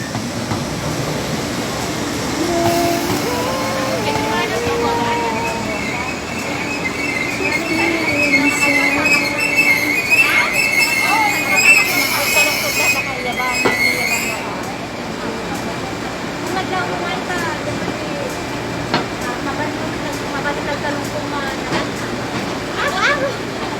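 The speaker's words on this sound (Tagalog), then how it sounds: "Ito na yung train." A train runs along rail tracks near Sha Tin, Hong Kong. Loud, close rumble continues throughout, with squealing wheels rising in the middle, and people talk over it.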